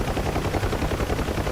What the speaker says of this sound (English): I think that speedboat's shooting at us again.